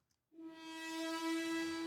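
Cello-style synth note bending under heavy destructive distortion: a sustained, buzzy, harmonically dense tone that enters abruptly after a brief silence and holds steady and loud throughout.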